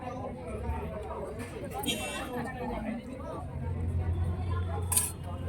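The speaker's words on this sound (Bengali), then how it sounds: "এই যে প্লেট লাগিয়ে নিচ্ছি" Plates and cutlery clink as they are laid out for a meal at a home puja gathering, a few sharp chinks of metal and china under nearby chatter and talk.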